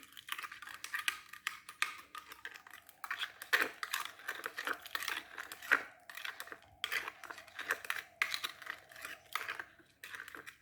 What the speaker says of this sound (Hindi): Stir it. आप इसको एटलीस्ट 2 मिनट्स तक अच्छे से